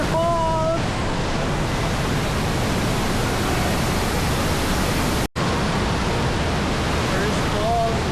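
Waterfall at Cedar Falls in Bukidnon roars as a steady, dense wash of falling water close by, filling the whole stretch with brief voices at the start and end and a split-second dropout midway.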